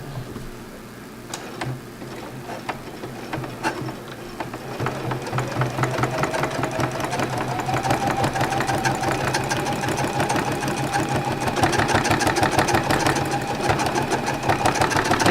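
Sewing machine stitching through up to six layers of fabric while thread painting a landscape; a few separate stitches first, then a loud, rapid, steady mechanical chatter that builds and keeps running close up.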